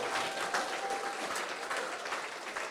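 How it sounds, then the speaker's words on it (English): An audience claps steadily throughout, a dense continuous patter of applause at a moderate distance, with no talking over it. "Keep the applause going for Dave."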